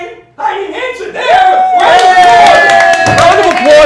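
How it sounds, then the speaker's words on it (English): Studio audience at an improv comedy show clapping and cheering, a loud burst of applause that swells and holds, with a host's voice talking over it. "Round of applause for Heidi"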